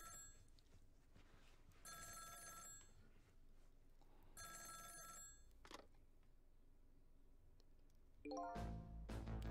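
A telephone rings in the Ghost Trick video game, two long bright trills separated by a pause, followed by a sharper tone burst and a louder low thump near the end, with no talk.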